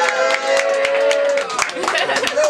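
A battle rap crowd claps and cheers for a female battle rapper, a loud burst of scattered clapping mixed with whoops, while a host's voice talks over it.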